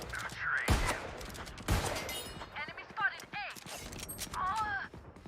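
A musket volley fires in the video game Atlantis Legion, with two loud, sharp gunshot bursts early on, followed by game effects and voices in the background.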